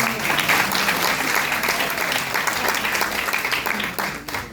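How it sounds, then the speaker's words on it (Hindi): Loud, dense applause from an audience at a public gathering in a village setting, continuous clapping close and full throughout before tapering slightly at the end. "जरा एक बार जोरदार धमाकेदार तालियां इजाज़ कर दीजिए"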